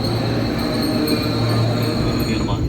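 A packed KRL commuter train at BNI City station gives off a steady, loud rumble with a squealing, wheel-like tone on top. It runs continuously and close by for the whole stretch.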